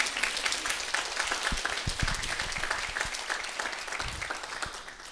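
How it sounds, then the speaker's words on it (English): Steady audience applause honoring the cooks at an evening spiritual gathering, a dense wash of many hands clapping at moderate distance, continuous for the whole stretch and slowly tapering at the end. "So I'd like to just give a round of applause for all the cooks as well"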